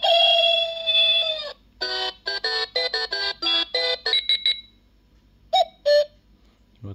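A small digital clock's alarm plays close and clear: a sustained electronic tone, then a rapid run of chirping beeps in short bursts, then two brief final blips, with quiet gaps between.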